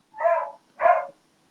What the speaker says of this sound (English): your dog's still allowed there, boo.